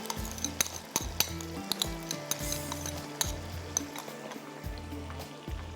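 Chicken coconut curry sizzles in a pan under a steady hiss, with repeated sharp metallic clinks and scrapes of a spoon against the pan at an uneven rhythm.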